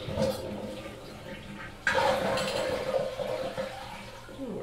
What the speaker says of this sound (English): Ooh, I hate when that splash on you.